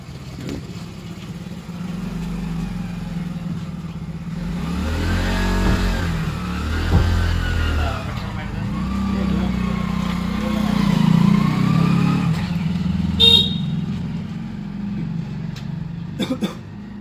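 A car engine runs steadily close by, its drone swelling as the vehicle pulls up and drives on, with a few louder revving surges and faint voices underneath.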